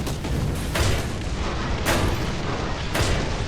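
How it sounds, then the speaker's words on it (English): Gunfire rattles against a tank in the War Thunder game, with sharp bursts and booming impacts repeating roughly every second over a constant low engine rumble. "No, he's firing his machine gun at me."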